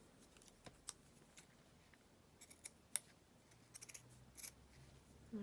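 Scissors cutting a piece of fabric in half for fabric tags, faint close snips scattered irregularly, with a quick cluster of small cuts near the end, quiet and alone.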